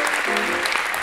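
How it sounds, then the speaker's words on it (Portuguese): Audience applause fills a theater during a live interview show, a dense, close wash of clapping that runs steadily throughout. "Palmas para o William, que está vindo aqui."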